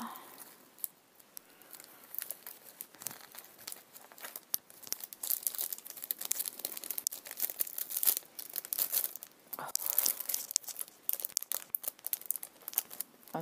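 Scotch tape is pulled and torn off a roll while making a scrapbooking paper flower, with irregular close crinkling, ripping and sticky peeling bursts and brief pauses throughout.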